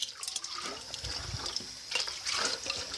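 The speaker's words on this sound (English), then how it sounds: "you can hear the water sloshing around with no pressure" Water sloshing and trickling inside an unpressurised container fitted with a valve, a soft, irregular liquid swirl with small splashes, faint and close, no voices.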